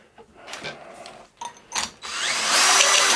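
A step drill bit bores into aluminium, with a few short bursts of grinding followed by a louder, steady high whine as the cut continues. No one speaks.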